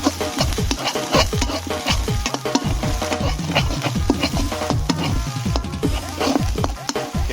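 Spicy Thai curry paste with beans is stir-fried in a pan, with steady sizzling and repeated scraping and clattering strokes of a spatula, close and loud.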